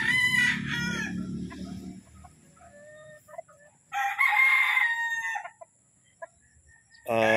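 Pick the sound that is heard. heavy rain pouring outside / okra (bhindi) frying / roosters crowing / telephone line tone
roosters crowing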